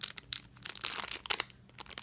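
A plastic packet being opened crinkles and crackles in quick, close bursts of rustling for about two seconds.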